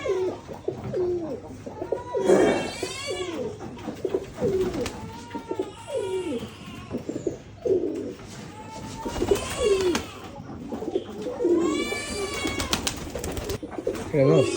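Pigeons coo over and over in low, throaty warbles, close by, with other chirps and a busy background mixed in.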